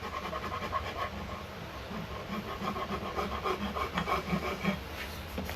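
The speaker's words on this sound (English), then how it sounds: "Rat tail file, define this round over just a little bit more." A rat tail file rasps across a wooden workpiece, rounding over a contour in a garage workshop, with steady back-and-forth strokes that sound close and moderately loud, each pass a gritty scrape.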